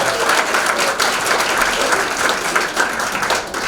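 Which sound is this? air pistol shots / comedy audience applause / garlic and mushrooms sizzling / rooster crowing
comedy audience applause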